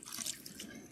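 Running water from a tap splashes steadily while rinsing natural hair, a soft continuous hiss of flowing liquid, close and fairly quiet.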